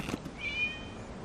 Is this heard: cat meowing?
yes